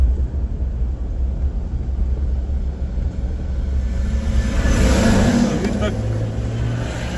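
Road traffic on a congested road after a jam clears, with a car engine revving. Dense continuous rumble throughout, swelling louder near the end as a vehicle passes close.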